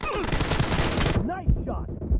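Gunfire in a shooter video game, a dense rapid burst for about a second that cuts off abruptly, followed by scattered quieter game sounds and a brief voice.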